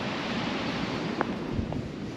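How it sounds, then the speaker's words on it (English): Steady broadband roar of ocean surf on a beach at Onslow, with wind noise buffeting the microphone, continuous throughout with no voices. "Listen to those waves."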